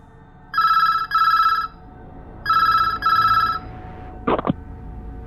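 A telephone at a police station rings in two pairs of bright electronic trills, loud and close, followed by a short clatter as the receiver is picked up.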